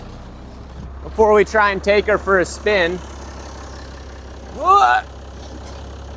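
The old 1981 International truck's engine idles with a low, steady rumble beneath someone speaking in short bursts nearby.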